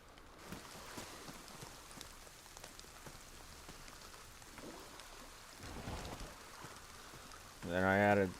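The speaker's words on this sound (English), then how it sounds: "it's raining right now" Steady rain falls in the survival video game DayZ, a continuous soft hiss throughout, ending with a brief loud vocal burst.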